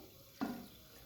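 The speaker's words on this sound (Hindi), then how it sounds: "अब आपने अच्छे तरीके से इनको धो लेना है और पानी जो है वो आपने निकाल लेना है।" Dirty soaking water poured off washed chickpeas, a single short splash burst that fades quickly, fairly faint against a quiet background.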